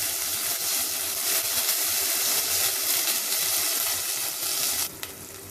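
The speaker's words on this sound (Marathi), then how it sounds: "हे चांगलं परतून झालं" Green chili paste sautés in a pan with loud, continuous sizzling and soft stirring, close and steady until a brief clink near the end.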